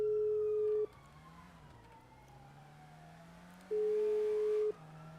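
Police car siren in a roleplay video game, two loud steady electronic tone bursts about a second each separated by a quieter stretch of engine hum.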